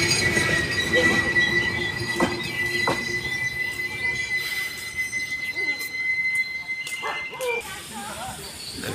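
A train pulls into Faridpur railway station with a sustained high metallic wheel squeal over a low rumble, loud and close, while people talk nearby.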